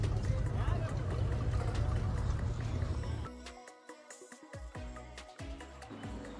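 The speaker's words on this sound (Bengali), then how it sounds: "আমাদের স্পিড বোটটা রওনা দিয়ে দিল।" A speedboat sets off through a mangrove creek near Baratang Island, a loud rushing engine and water roar that fades after a few seconds into lighter splashing and knocking, with people talking over it.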